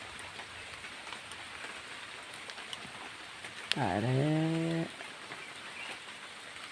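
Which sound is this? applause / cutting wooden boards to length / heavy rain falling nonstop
heavy rain falling nonstop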